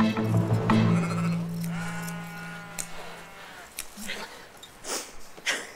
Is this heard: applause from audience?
no